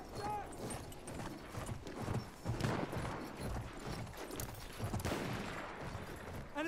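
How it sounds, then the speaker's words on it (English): Cavalry horses gallop in Battlefield 1 amid battlefield noise, with busy hoof clatter, scattered distant gunfire and in-game voices calling out over a dense, continuous soundscape. "Enemy cavalry over there."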